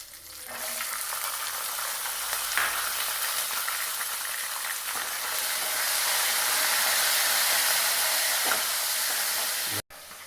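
Curry leaves and peeled garlic sautéing in sesame oil for a brinjal kuzhambu, a steady close sizzle and crackle with occasional stirring scrapes, running unbroken for several seconds with no one talking.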